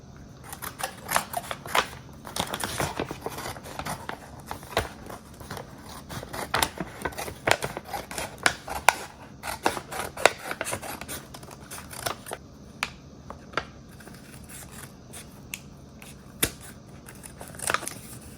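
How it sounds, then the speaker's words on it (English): Scissors snipping along a traced shape in a Dollar Tree bag, a steady stream of quick crisp cuts and rustles, close and fairly quiet with no talking. "Just gonna trace it and then cut it out."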